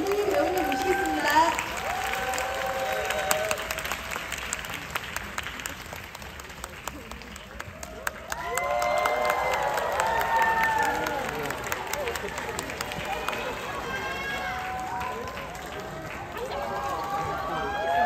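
A cinema audience applauds and cheers as the director and cast come on stage for a stage greeting before a screening of Concrete Utopia at CGV Yongsan. Dense, sustained clapping fills the whole stretch, swelling in the middle and staying loud throughout.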